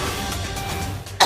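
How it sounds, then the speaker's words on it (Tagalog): A single sharp cough bursts out near the end, after a stretch of low background noise. "Matigas yung ubo."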